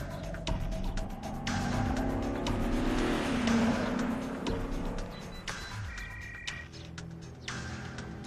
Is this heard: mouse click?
no